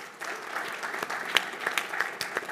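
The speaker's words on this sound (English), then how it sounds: "Round of applause." A short burst of audience applause at the end of a talk, brisk and moderately loud, with a few sharper individual claps standing out from the patter.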